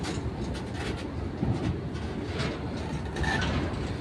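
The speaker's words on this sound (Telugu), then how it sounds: "గూడ్స్ ట్రైన్ వ్యాగన్లతో పాటు ఇంజిన్ కూడా వెళ్లిపోగా" A goods train with wagons and engine rolls past continuously, a steady rumbling clatter of wheels on rails with occasional louder knocks, fairly close and moderately loud.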